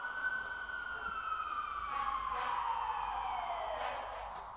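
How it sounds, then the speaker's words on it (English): A siren wails with a slowly falling pitch, fairly distant and steady, without voices. "So we have this Siren sample."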